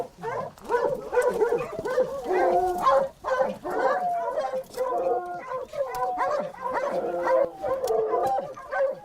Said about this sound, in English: The dogs are barking more intensely now.